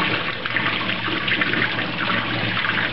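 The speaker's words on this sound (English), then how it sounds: "Give it a good rinse." Running tap water pours steadily over a freshly gutted quail being rinsed, a close, continuous splashing rush with no talking.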